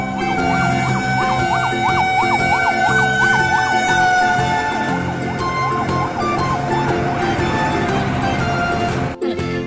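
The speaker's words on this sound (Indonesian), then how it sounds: "Ini mobil pemadam kebakaran teman-teman." A toy fire truck plays a loud siren, a rapid wailing warble that repeats, then shifts pattern over busy mechanical toy noise and background clatter, with a sharp knock near the end.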